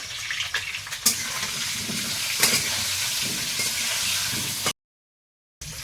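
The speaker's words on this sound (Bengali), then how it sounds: "একদম সামান্য একটু হলুদ আর লবণ দিয়ে আলুটা ভেজে নিচ্ছি" Potatoes fry in oil with a little turmeric and salt, giving a continuous close hiss and sizzle with a couple of sharper clatters before a brief cut to silence.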